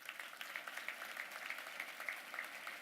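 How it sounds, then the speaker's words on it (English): A gala dinner audience gives a round of applause, steady dense clapping from a crowd heard at a distance and fairly faint. "So let's give him a round of applause."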